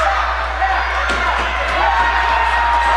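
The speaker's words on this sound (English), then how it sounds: "Crowd calling for Blais to tap" A crowd at a wrestling match fills the space with a steady, loud roar of shouting and cheering, with a few sharp thuds from the mat, urging the wrestler caught in a knee lock to tap out.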